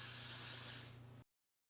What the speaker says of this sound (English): I make sure to like spray a lot in this area